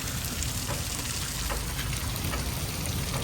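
Natural spring water at Gun Hill in Mussoorie trickles down from above in a steady, close, hissing patter, like a fine spatter of drops landing continuously.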